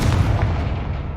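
Confringo blast spell in Hogwarts Legacy, a loud rumbling explosive burst with heavy low-end boom that fills the whole moment and slowly decays.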